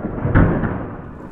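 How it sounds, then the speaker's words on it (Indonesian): Heavy rain hisses steadily as a short, loud thunder rumble booms close by and then fades back into the downpour. "Hujan deras banget nih bang."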